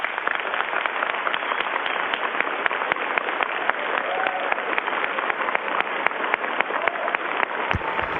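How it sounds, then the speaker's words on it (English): Students at Eastern Guilford High School applaud, a sustained patter of many hands clapping that sounds thin and band-limited, steady for several seconds with no voices on top. "Students, please show them a round of applause"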